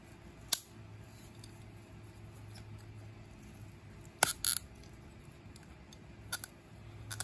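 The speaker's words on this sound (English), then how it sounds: "I like these ratcheting scissors, but be careful with your fingers" A few sharp clicks and snips of ratcheting scissors cutting through plastic sprinkler pipe, spaced apart against a quiet background hum.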